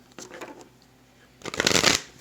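Tarot cards being shuffled twice: a short riffle, a pause, then a louder, longer flurry of cards slapping together.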